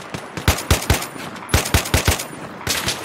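Rapid gunfire in the video game Battlefield 3 with the Project Reality mod, loud and close, fired in several quick irregular bursts of automatic shots with short pauses between them.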